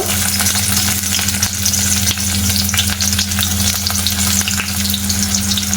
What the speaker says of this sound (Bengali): তেলটা গরম হয়ে গেছে, ওর মধ্যে কুচনো পেঁয়াজ দিয়ে দেব